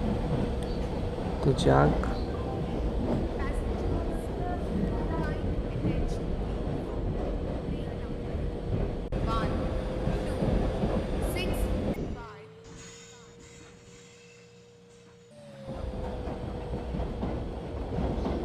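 Train in the Indian Train Simulator game starting off and running, with a steady rolling rumble and clatter, a brief quieter stretch, then the rumble returning. Someone talks briefly over it.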